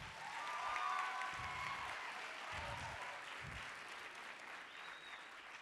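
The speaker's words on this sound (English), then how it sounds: "Let us clap hands for that." Audience applause at a school poster competition award ceremony in Gauteng, a steady wash of clapping lasting several seconds at moderate level, with a faint voice and low thumps underneath.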